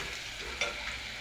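Poha with turmeric, chili and spices is stirred in a frying pan, a soft steady sizzle with one brief scrape of the spoon partway through, close and alone.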